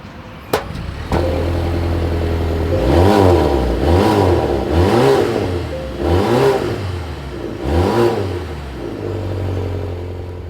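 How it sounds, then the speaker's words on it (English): A 2024 Volvo S90 Recharge engine revs up and down repeatedly, four or five strong rising-and-falling exhaust bursts over a steady idle, loud and close. "As always, here is that exhaust clip."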